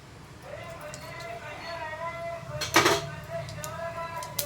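Mustard and cumin seeds spluttering in hot oil, with scattered sizzling crackles and a brief louder burst of popping, heard under a person talking over music.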